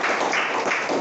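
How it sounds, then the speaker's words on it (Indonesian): Classroom of students applauding a classmate, a brief burst of dense, even clapping that fills the room. "tepuk tangan untuk Yudi"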